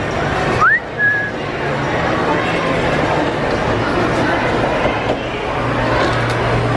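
A person gives one short whistle, rising then held steady, outdoors at Walt Disney World in August, over the constant wash of a busy crowd and passing traffic.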